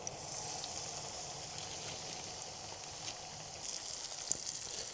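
Food fries in hot oil outdoors over a burner turned up to full, a steady soft sizzle and hiss holding under a faint open-air background.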